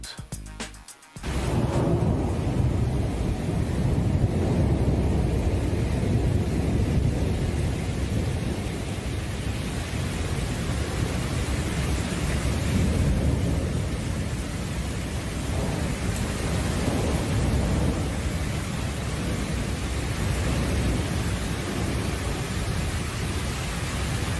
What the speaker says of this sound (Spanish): Tormenta eléctrica en Madrid.